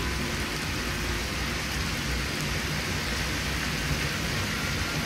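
Steady rain falls outdoors in the video game Skyrim, a dense continuous hiss with no voices, even in level from start to finish.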